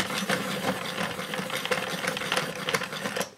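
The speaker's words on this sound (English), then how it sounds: "let's see what this hand crank one will do" A hand crank long point pencil sharpener grinds a pencil in a rapid rattling whir of blade scrapes, close and fairly steady before it stops abruptly.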